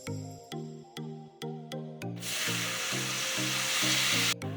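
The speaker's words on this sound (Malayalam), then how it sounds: "ഇനി കുറച്ച് വാളംപുളി വെള്ളം ഒഴിക്കുക ഇതിനകത്തോട്ട്" Short repeated tonal beeps sound, then tamarind water hits hot frying spices and roasted coconut pieces for a Kerala ginger curry, bursting into a loud, hissing sizzle that holds for about two seconds before cutting off.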